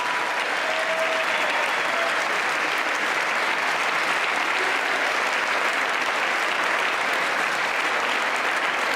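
Sustained applause fills a large chamber during a State of the Union address, a dense, steady wash of clapping from a big crowd that holds without pause.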